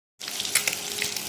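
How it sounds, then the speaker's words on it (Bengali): Eggs frying in hot oil in a wok for an egg and potato curry give a loud, dense, steady sizzle that bursts in abruptly after a brief silence and crackles on without pause. "ডিম আলুগুলো ভেজে নেব।"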